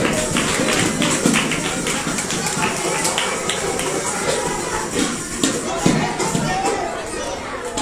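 Children in a class clap together in a busy, scattered burst of claps that goes on throughout, with children's voices and shuffling mixed in.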